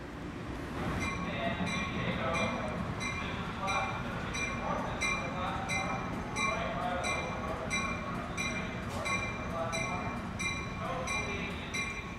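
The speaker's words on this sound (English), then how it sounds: "Amtrak Train 761 pulls into track 10 next to my train." An Amtrak Pacific Surfliner passenger train, number 761, pulls into track 10 at a station with a steady rumble, rhythmic wheel clicks and a high ringing tone, loud and continuous throughout.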